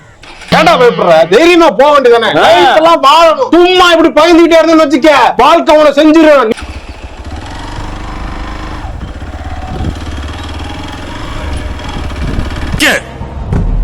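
A motorcycle engine revs and drones loudly for the first half while riding through the Chithara palm oil estate in Kollam, then drops to a steadier, lower rumble with wind noise.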